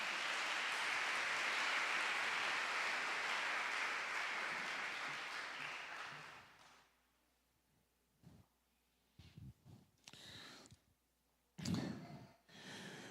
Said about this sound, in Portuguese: dá outra salva de palmas para o Senhor Jesus